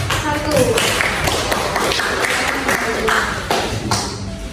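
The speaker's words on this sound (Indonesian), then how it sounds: "Tepuk tangan dulu dong buat kelompok 1" Classroom students clapping for a group of classmates, a dense continuous patter of many hands at close range under steady voices and chatter throughout.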